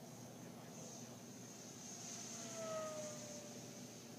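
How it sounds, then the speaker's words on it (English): A Flyzone Sensei RC airplane on a 4S battery making a full-throttle flyby, its propeller giving a thin, steady whine that swells slightly as it passes, over broad outdoor hiss. "Nice prop noise."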